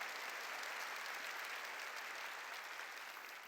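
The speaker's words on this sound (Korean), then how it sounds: "깨달은 사람만 박수" Dense, steady applause from a church congregation at a New Year blessing revival service, a continuous wash of many clapping hands heard at a distance, fading slightly at the end.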